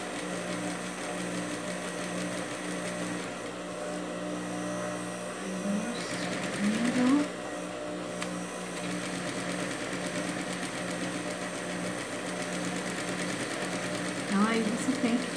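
Domestic sewing machine stitching circular seams, the needle running alongside a previous line of stitching, with a steady whirring mechanical drone that rises briefly around the middle and near the end while a person speaks over it.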